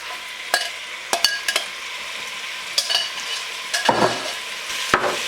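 Steady sizzle of pork frying in a pan, broken by several sharp clinks and scrapes of a utensil stirring.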